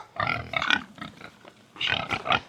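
Pastured pigs grunt in a string of close, rough bursts, several overlapping snorts in uneven clusters separated by brief pauses, with no talking.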